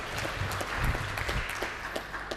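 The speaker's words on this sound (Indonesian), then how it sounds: "kita berikan tepuk tangan untuk tim pro" A crowd claps throughout a student law debate semi-final, a dense wash of applause sustained from start to finish at moderate level.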